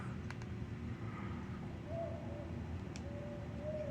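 An owl hoots at night in an outdoor setting, two soft, faint calls from a distance under a steady low rumble of background noise.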